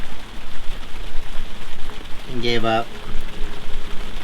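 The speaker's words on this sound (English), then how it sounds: "it's pouring down rain outside" Rain pours down in a steady hiss with patter on surfaces on a sailboat, while someone talks briefly partway through.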